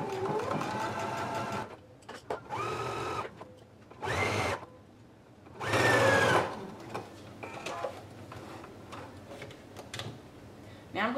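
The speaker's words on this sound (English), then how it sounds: "I'm going to begin at the wide end of the dart and then sew down to the point." A sewing machine stitches a bust dart in several short bursts of rapid mechanical whirring, with pauses in between. Someone talks quietly in the gaps.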